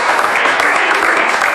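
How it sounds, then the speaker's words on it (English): A short, loud burst of dense applause that plays on evenly and then cuts off abruptly. "Let's have a round of applause."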